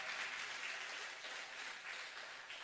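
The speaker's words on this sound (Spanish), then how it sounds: "Dale un aplauso." A congregation at a Sunday church service applauds, a soft, distant, continuous patter of many hands that stays steady for a few seconds.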